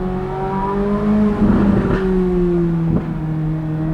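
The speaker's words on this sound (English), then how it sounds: "Amazing backfire." A Chevrolet C8 Corvette Z06 engine revving hard with rising and falling pitch, broken by a couple of sharp popping backfire bursts, loud and close.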